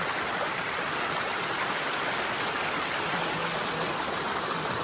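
Water in a stream along the Appalachian Trail flows strongly, a constant close broadband rushing and splashing with no voices.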